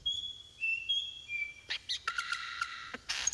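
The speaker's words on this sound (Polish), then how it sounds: "First up, the songs of forest birds." Forest birds singing, with clear whistled notes and quick chirping phrases layered over one another, close and fairly loud against a quiet background.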